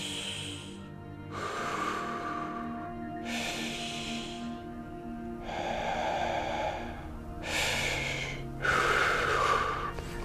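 Slow, deep belly breaths are drawn in and pushed out audibly through the nose and mouth, close to the microphone, in about five long cycles of airy inhales and exhales with no talk.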